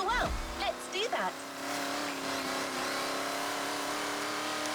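In The Crew Motorfest, an RC car drives through dirt, its engine whining and rising in pitch with revving bursts, while brief voices sit over it early before a steady, sustained motor drone carries on.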